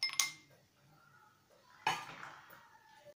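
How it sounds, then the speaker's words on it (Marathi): Ice cubes drop into a glass of masala jeera drink in a home kitchen, giving two separate bright clinks, one near the start and a louder one partway through, with quiet room tone between them. "त्यानंतर आईस क्यूब यात घालणार आहोत।"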